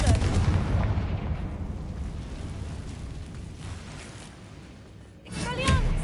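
A Confringo spell cast in Hogwarts Legacy bursts with a booming blast at the start, leaves a rumbling tail, and gives way to a second sharp explosion near the end, with a voice speaking over it.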